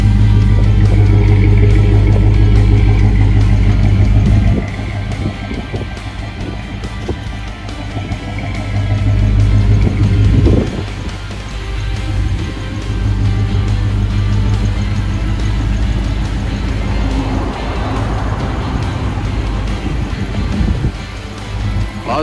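A raised 1980s four-wheel drive with rigid axles rumbles along, with a steady low engine and road roar throughout, louder at first and shifting with bumps and gear changes.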